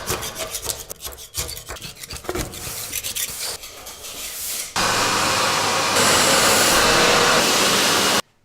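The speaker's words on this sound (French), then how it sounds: "ou avec une ponceuse à béton." Rough scraping and rasping at first, then a steady loud grinding drone of a concrete sander running continuously on a concrete floor to remove loose glue, until it cuts off abruptly.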